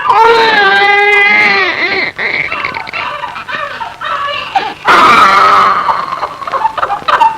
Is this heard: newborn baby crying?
yes